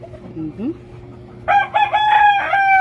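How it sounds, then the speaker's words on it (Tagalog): A fighting rooster crows loudly and close by, a drawn-out harmonic call lasting over a second after some quieter background sounds. "at may mga manok din tayong mga pangsabong"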